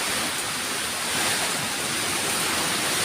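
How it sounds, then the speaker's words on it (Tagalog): A strong, steady wind during a rainstorm in Bohol roars as a broad, unbroken rush of noise for a few seconds. "sobrang lakas ng hangin"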